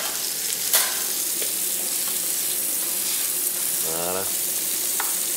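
Dry-aged beef rib steaks, cellar-matured, sizzle on a grill with a loud, steady crackling hiss throughout, broken only by one brief spoken word.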